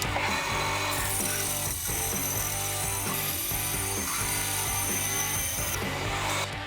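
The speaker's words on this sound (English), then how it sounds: "we're going to use the bandsaw to cut this shape out" A bandsaw cuts a shape out of wood with a continuous loud whine and buzz. The cut roughens in short rasping pulses as the piece is fed through the blade.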